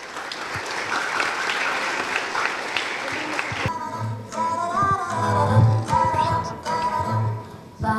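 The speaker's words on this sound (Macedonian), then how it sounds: "да ги поддржите со еден голем аплауз" Audience applause at a school knowledge-stands event, a dense burst of clapping from a crowd that stops abruptly partway through, after which quieter sounds and voices follow.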